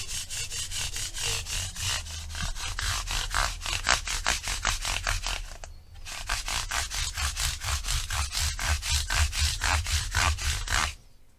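Sandpaper of 120 grit rubbed back and forth at an angle across the frets of a Gibson Les Paul Studio, fast rhythmic rasping strokes with one brief pause, close and loud with no talk.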